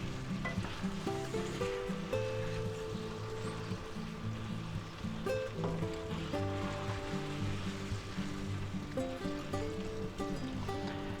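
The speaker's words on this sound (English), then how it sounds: "we're going to go ahead and add our pasta noodles in there, right? Put them right in there. Mix that in." Pasta noodles stirred into a thickened black pepper sauce in a pan, giving a continuous soft sizzle with scraping and clacking from the utensil, steady and close.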